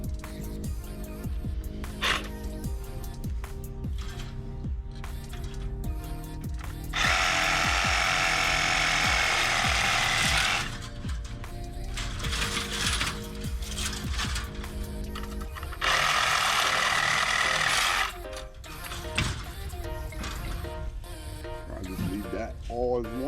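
A scrap aluminium radiator is cut apart in the street, with two long bursts of harsh, loud grinding separated by quieter mechanical clatter and handling noise.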